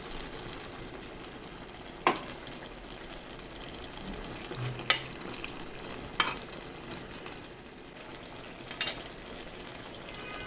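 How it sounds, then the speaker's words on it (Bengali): Pumpkin greens curry with shing fish frying in a pan as it is stirred, a low steady sizzle with scraping strokes of the spoon at intervals, close and fairly quiet, no talk. "আবার একটু লাড়া দিয়ে দিই।"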